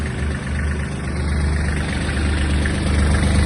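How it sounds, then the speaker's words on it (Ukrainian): The small engine of a Kubota GL-320 Japanese mini tractor idles steadily and loudly up close, a constant rumbling drone with a faint vibrating rattle. "Дуже чиста робота двигуна."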